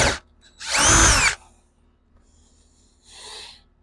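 A power drill bores a hole for a deer feeder stand in two short bursts: a loud whirring burst of about half a second, a pause, then a quieter, shorter spin.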